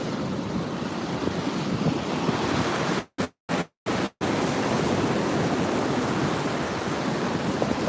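Strong surf crashes and rolls onto a beach on a windy day with a rough sea, with heavy wind buffeting the microphone in a constant roar, broken briefly by a few short dropouts.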